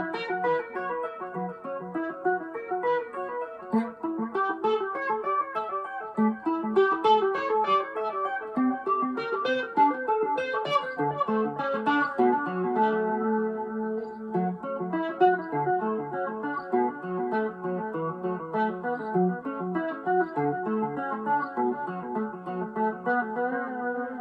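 Clean electric guitar run through a Boss MS-3 switcher with a step delay and chorus, on a Kramer 2021 Custom Baretta Vintage, playing a flowing stream of shimmering repeated notes that ring on steadily at moderate volume.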